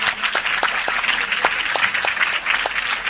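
Students applauding at a school annual program, a dense, steady burst of clapping from a crowd with a few sharper individual claps standing out.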